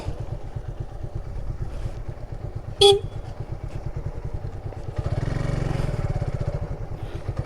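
A motorcycle rumbles steadily along a rough village road, its engine pulses close and continuous, with a sharp horn toot near the three-second mark and the engine rising louder and rougher toward the end.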